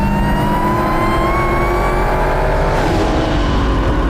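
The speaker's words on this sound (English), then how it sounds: "We then follow the airstream into the engine to see that glorious V8 engine in action." The supercharged V8 of a 2018 Dodge Demon revs hard and loud, a sustained, rising engine roar with a strong, steady pitch that swells and then drops slightly near the end, with no talking.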